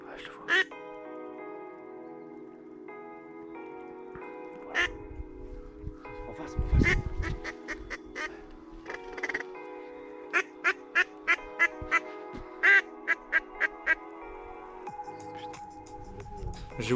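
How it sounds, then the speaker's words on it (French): Mallard ducks land on a small pond during a duck hunt, with a run of short, evenly spaced quacks nearby, some close and sharp, over a background hum. "les premiers colverts se posent au fond de la mare"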